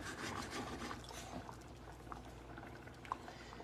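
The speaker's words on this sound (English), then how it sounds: "Now you can see we've really got it bubbling up." A creamy chicken marsala sauce bubbles in a pan with a soft, steady simmer and scattered small pops, faint and close.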